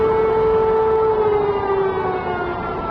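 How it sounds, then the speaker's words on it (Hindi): Air raid sirens sound across Kyiv during a feared Russian attack, a loud, sustained wailing tone that slowly drifts lower, with faint higher harmonics and no voices. "सायरन्स बज रहे हैं। सुन रहे,"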